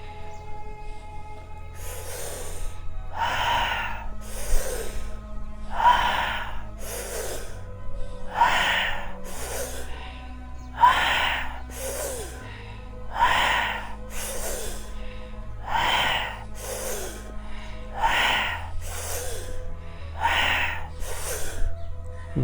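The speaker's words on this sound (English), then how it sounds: "Very powerful breathing." Forceful rhythmic breathing in a guided exercise: about a dozen sharp, loud exhales through the nose, evenly spaced every couple of seconds, close up, with a low steady hum underneath and no talking.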